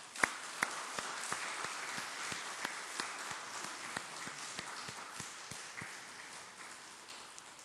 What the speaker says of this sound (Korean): 우리 박수로 이렇게 맞이해 주시기 바랍니다